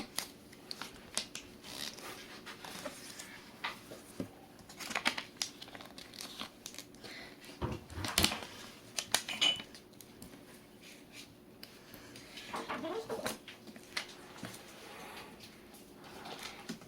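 Sheets of blue paper are creased and folded in half for a craft, giving intermittent crinkling and rustling handling noises with a louder sharp crease in the middle, fairly close and quiet.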